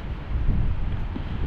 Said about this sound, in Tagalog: Kalakas po ng hangin.